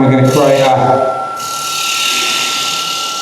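A spindle gouge cuts into wood turning on a lathe, first a rough, chattering grind that lasts about a second, then a steadier whine of the spinning workpiece, with the machine's constant tonal hum underneath throughout.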